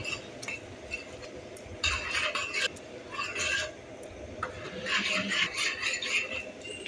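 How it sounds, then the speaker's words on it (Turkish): A spoon scrapes and clinks against a pot while dried bean stew is stirred in uneven bursts over a steady background hiss. "İyice karıştıralım."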